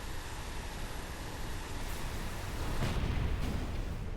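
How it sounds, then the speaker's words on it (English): A spaceship explosion in the space shooter game Everspace: a sustained, loud, broadband rumble that swells and thickens toward the end, with no voices over it. "that was a pretty sweet explosion"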